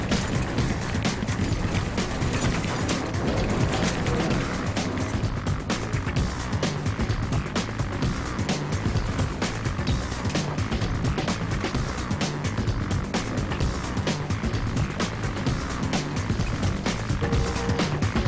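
A Porsche rally car at the Transsiberia rally charges along forest and field tracks full of potholes and mud, its engine roaring loud and continuous with rough, rattling road noise and splashes throughout.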